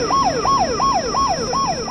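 Emergency vehicle siren wailing in a rapid repeating yelp, about five quick rising-and-falling cycles, loud and close with a steady high tone underneath.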